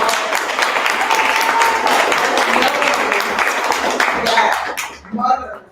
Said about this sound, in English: But let's give her another round of applause.